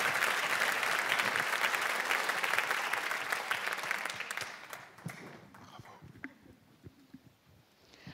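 Audience applause at a Radio France evening event in Paris, a dense, loud crowd clapping that fades over the last few seconds into scattered claps and room noise.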